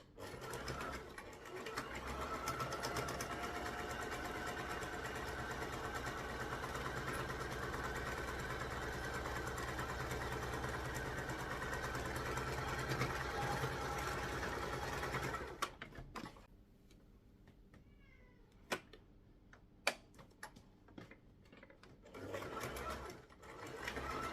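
A sewing machine runs steadily, stitching along creases in fabric with a fast, even mechanical whir for about fifteen seconds, then stops, leaving quieter scattered handling clicks and light knocks.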